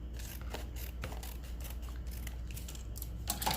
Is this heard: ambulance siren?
no